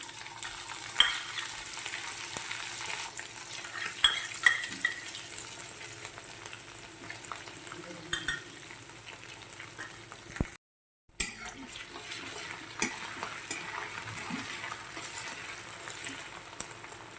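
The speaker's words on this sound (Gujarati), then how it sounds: "હવે આપણું જીરું પણ સારી રીતે તતરી ગયું છે તો તેમાં આપણે ચપટી હિંગ નાખી દેવાની છે" Cumin seeds and a pinch of asafoetida sizzle steadily in hot oil, a soft continuous crackle and hiss with occasional small pops, briefly cut by a moment of silence.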